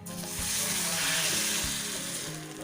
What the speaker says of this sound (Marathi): आणि ह्यातच मी पाणी घालतीये